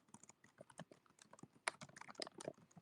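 Typing on a computer keyboard, a quick irregular run of soft close key clicks with a few sharper taps, fairly quiet, with no voices.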